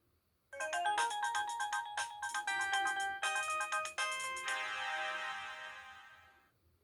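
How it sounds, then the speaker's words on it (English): A Samsung Hue phone on Alltel plays a bright melodic chime as it powers on, a rapid run of ringing notes that ends in a sustained chord and fades out. "So let's see if these phones turn on here right now."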